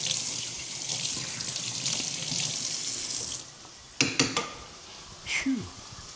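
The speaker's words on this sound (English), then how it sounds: "we'll just wash one off real quick" A utensil rinsed under a running kitchen tap: steady close water flow for a few seconds, then the tap shuts off and a few sharp clinks and knocks of metal against the sink follow, with no talk.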